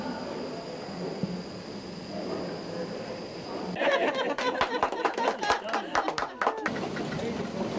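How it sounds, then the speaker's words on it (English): A train pulls away on its run toward Halls Creek, with rhythmic clanking and rumbling building in the second half, close and fairly loud, preceded by quieter background with faint voices. "The train then heads off again for the trip to Halls Creek"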